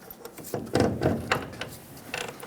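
Front suspension work on a 2007-2014 Chevrolet Silverado 2500 HD as a long pry bar levers the lower control arm down and a nut is removed, giving a run of close metallic ratcheting, scraping and clanking with no talk.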